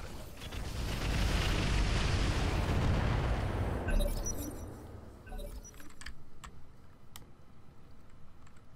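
Weapons firing in the mech combat video game Roguetech, a loud sustained rumbling barrage that rolls on for several seconds, then fades into scattered metallic clanks and clicks.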